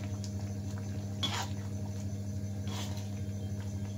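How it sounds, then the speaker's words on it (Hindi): A pot of mixed vegetable biryani with non-basmati rice comes to a boil, giving faint bubbling and patter over a steady low stovetop hum. "देखिए इसमें उबाला आने लगा है अच्छे से"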